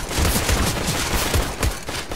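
Dense, continuous gunfire in the video game Counter-Strike: Global Offensive, with rapid bursts and overlapping shots, loud and close, forming a steady barrage with no talking.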